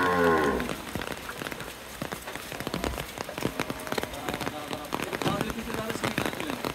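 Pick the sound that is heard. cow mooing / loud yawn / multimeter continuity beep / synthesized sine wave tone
cow mooing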